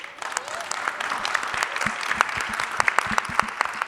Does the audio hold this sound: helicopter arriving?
no